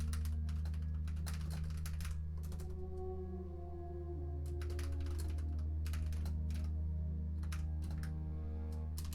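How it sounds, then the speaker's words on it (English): Computer-keyboard typing goes on in quick, uneven clusters of soft clicks with brief pauses, fairly quiet over a steady low background hum. "I'm typing stuff out."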